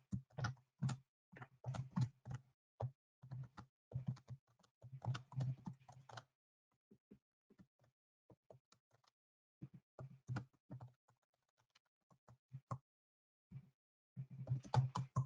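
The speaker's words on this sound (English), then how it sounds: "start typing their name out" Rapid clicking of keys on a computer keyboard in uneven bursts, with short pauses between runs of typing, close and fairly quiet.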